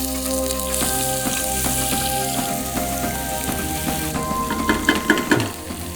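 Chopped pepper and garlic dropped into well-heated oil for Uzbek lagman sizzle loudly and steadily, crackling and spitting up close, with stirring clatter near the end and no voices.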